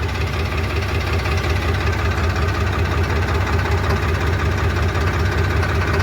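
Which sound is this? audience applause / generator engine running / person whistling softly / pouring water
generator engine running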